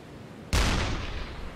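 Gunfire shooting at a submarine in the UBOAT video game: one sudden, heavy, booming shot that hits hard and then rumbles away, loud and close over a low hum.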